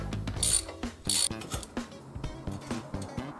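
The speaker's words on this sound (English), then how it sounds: "let's remove the fender by taking off these bolts" A ratchet loosens bolts on a motorcycle fender, producing close, quiet, rhythmic clicking strokes in an uneven series, with a couple of brighter metallic scrapes near the start.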